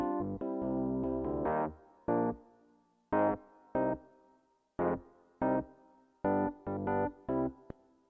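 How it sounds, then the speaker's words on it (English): Logic Pro's built-in Rhodes electric piano on the Deluxe Classic patch plays warm, bell-like chords in separated stabs and short phrases, moderately loud, each note decaying softly between hits. "the Rhodes that's built into Logic."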